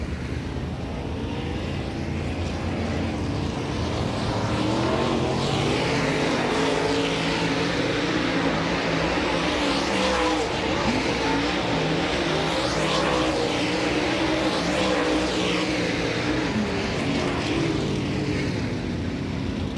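DIRTcar Super Late Model race cars on a hot lap session at Volusia Speedway Park, a continuous loud roar of several engines sweeping past and rising and falling around the dirt oval.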